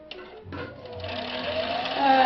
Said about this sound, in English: And we're winding a bobbin.